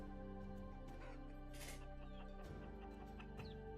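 Baby chickens in the video game Vintage Story cluck and peep faintly in short scattered calls over a quiet, steady tonal game background.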